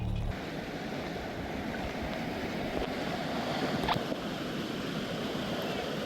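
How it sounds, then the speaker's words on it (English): Rushing river water roars as a steady, broad wash outdoors, fairly loud and continuous, with some wind buffeting the microphone and no voices. "The water's getting louder though, which is promising"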